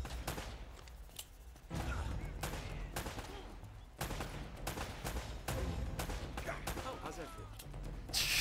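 Rapid gunfire bursts from the video game Uncharted: Drake's Fortune crackle loudly and repeatedly through the clip, broken by short pauses, with a voice talking over the shooting.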